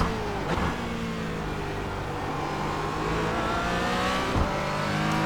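Porsche Cayman GT4 engine in the iRacing simulator at Sonoma, a loud continuous rising drone as the car accelerates out of a corner, with brief shifts in pitch and no talk.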